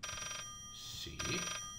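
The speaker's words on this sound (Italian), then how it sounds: "E qua sento squillare un telefono" An old telephone rings in a dark house in the game Layers of Fear, two electronic bursts with a short gap between them, heard quietly over a steady background hum with no talk.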